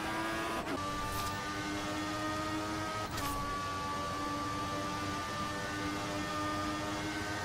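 Race cars from a Formula 1 video game at Abu Dhabi, one a Marussia with DRS open passing a Ferrari, drone past in a continuous high engine whine with a couple of sharp transient bursts.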